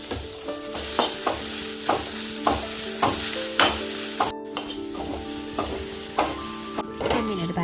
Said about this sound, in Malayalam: ചട്ടി ചൂടാക്കിയതിന് ശേഷം ഒരു പത്ത് പതിനഞ്ച് മിനിറ്റ് ഉണക്കച്ചമീൻ ഒന്ന് വായിട്ടെടുക്കണേ